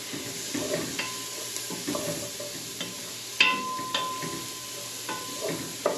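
Marinara sauce sizzles steadily in a pan, close up, while a utensil stirs through it with soft scraping strokes and occasional sharp clinks against the pan.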